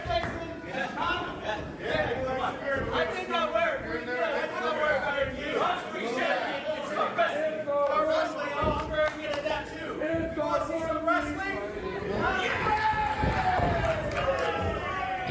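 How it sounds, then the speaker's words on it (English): Wrestling arena crowd at an SPW Championship match, a dense steady roar of chatter and shouting voices filling the space, swelling slightly near the end as the bout gets underway. "And you can hear the crowd wants to see some wrestling"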